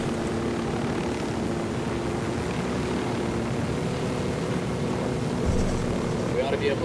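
Helicopter in the video game Ghost Recon Wildlands flies with a constant, loud rotor and engine drone that stays steady throughout, with a brief extra burst of noise near the end.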